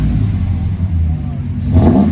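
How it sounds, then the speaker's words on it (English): A 2015 RAM 1500 with the 5.7L HEMI V8, dual exhaust and Magnaflow mufflers, rumbling with a deep, steady low tone close by, then revving up briefly near the end. "MAGNAFLOW gives it a really nice deep tone."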